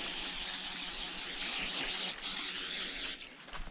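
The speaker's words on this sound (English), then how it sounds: "you spray your bino harness and you spray your backpack too" Permethrin tick spray hisses from a can onto hunting gear such as a backpack and binocular harness, a close, steady burst lasting about three seconds with a brief break near the end.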